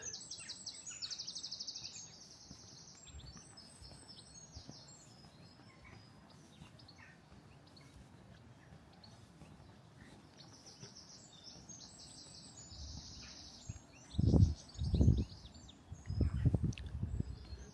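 Goldfinches singing outdoors on a walk in St Lawrence, Isle of Wight, high twittering phrases coming in two bursts at moderate distance, followed by a few low bumps of handling noise near the end.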